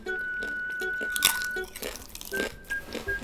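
Close, crisp crunching as someone bites and chews homemade sweet potato chips, a few quick crunches with wet mouth sounds in between.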